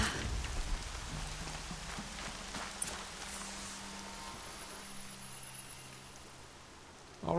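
Rain pattering steadily on the ground in the open world of Horizon Zero Dawn, a faint, even hiss with a few scattered footsteps and thuds and a low hum underneath.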